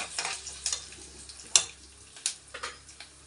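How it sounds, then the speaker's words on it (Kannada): Urad dal with cumin frying in a pan, a soft steady sizzle broken by a few sharp stirring scrapes and clicks, close and fairly quiet with no talking. "ಉದ್ದಿನ ಬೇಳೆ ಇದೊಂದು ಸ್ವಲ್ಪ ಫ್ರೈ ಆಗಬೇಕು"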